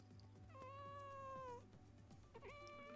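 A small house cat meows twice, a long drawn-out cry followed after a short gap by a shorter one, both close and clear over a faint low background hum.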